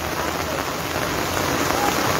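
Heavy monsoon rain falls hard in Jammu, a close, loud, steady roar of drops pelting surfaces, even and unbroken from start to finish.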